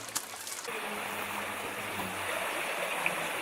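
Water runs along the base of a Roman aqueduct channel, a steady, even trickling rush heard close by and alone, with a brief knock near the start.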